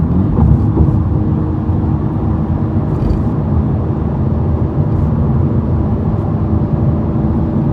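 Straight-piped, catless, tuned 300 hp VW MK6 GTI driving, with a loud, steady low engine and exhaust drone and rumble that stays continuous and close, with no voices.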